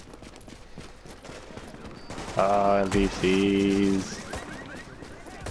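Shotgun fire in the video game Tom Clancy's The Division, heard as a flurry of loud blasts and gunfire that rises over steady game ambience midway through, with people talking.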